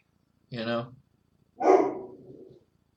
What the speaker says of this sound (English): Why is that dog barking?